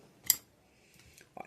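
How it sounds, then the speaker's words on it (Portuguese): Scissors snip off excess zipper fabric while a zippered pouch is sewn, giving one sharp close cut followed by a couple of softer clicks and handling sounds, with no talk. "Eu vou refilar essa sobra aqui do zíper."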